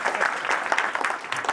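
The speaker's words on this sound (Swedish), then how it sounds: "Det tycker jag är värt en applåd." A brief burst of audience applause during a talk, dense and fairly close clapping from a crowd that fades slightly toward the end.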